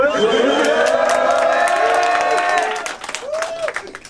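A large crowd at a sparring event cheers and claps loudly, a dense roar of applause with whoops that gradually thins out toward the end.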